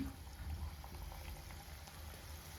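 Wheat gavvalu dough pieces deep frying in hot oil, a steady faint sizzle and bubbling close by, continuous without talk.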